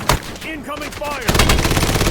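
Automatic gunfire in the Black Ops Warzone Blackout battle royale, first sparse shots under game callouts, then a loud, continuous burst of rapid fire filling the last second.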